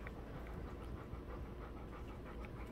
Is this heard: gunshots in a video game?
no